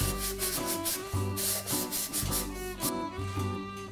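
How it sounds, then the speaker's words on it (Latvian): Fired porcelain mug, just out of the kiln after its first firing, being sanded by hand: a steady, close scratchy rubbing in repeated strokes, with faint music-like tones underneath. "Kāpēc vajag slīpēt?"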